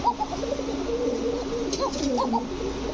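Soft, repeated throaty coos from a pigeon, several rolling calls close by over a steady low background hum.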